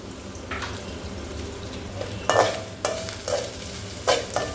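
Bitter gourd and okra frying in a pan, stirred with a spatula in several scraping bursts over a continuous low sizzle, close and fairly loud.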